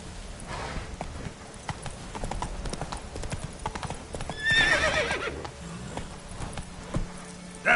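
Roach, a horse in The Witcher 3: The Wild Hunt, galloping with steady rapid hoofbeats, then letting out a loud, clear whinny midway before the hooves carry on.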